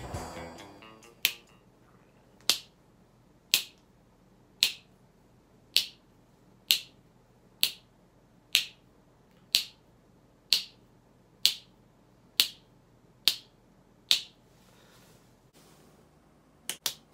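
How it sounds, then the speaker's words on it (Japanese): Finger snaps ring out one after another, about fifteen crisp, close snaps at an even pace of roughly one per second, each sharp and dry against near silence. "この指パッチンなんですけど、"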